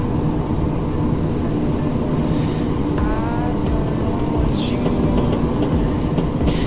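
A Roblox train pulls into a station with a continuous rolling rumble of wheels on track, overlaid by brief metallic squeals and clanks as it slows, heard alone without voices.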